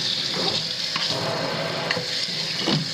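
Water runs from a sink tap inside a 1980s North Dallas house during a plumbing inspection, a steady hissing splash that continues evenly throughout with no talk.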